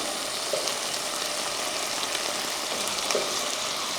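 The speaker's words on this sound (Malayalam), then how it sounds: "നമുക്ക് നന്നായിട്ട് തക്കാളിയൊക്കെ വേവനേടം വരെ വഴറ്റിയെടുക്കാം" Tomatoes and a bit of grated coconut sautéing in a pan for a Kerala-style chutney, giving a steady, close sizzle and crackle throughout with no voices.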